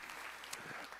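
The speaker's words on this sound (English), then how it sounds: "That's worth an applause!" A brief burst of audience clapping at a Friday evening church meeting, a dense patter of many hands sounding from across the hall.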